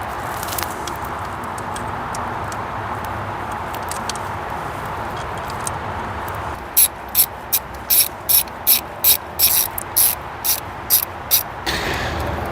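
A ratchet wrench tightening the 10mm alternator bolts on a 2006 Honda CRV, a run of sharp, evenly spaced clicking bursts close up after a stretch of quieter rattling work in the engine bay.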